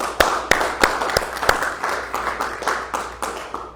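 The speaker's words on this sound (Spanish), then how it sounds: "Un aplauso al Señor, hermanos." A church congregation claps in unison, sharp rhythmic beats about three per second, near and steady, with a softer wash of scattered clapping between the beats.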